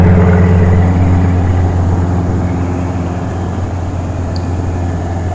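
A US Marine military helicopter with four rotor blades runs at an airport. Its loud, steady engine and rotor drone is close and dominant, easing slightly toward the end, with no talk.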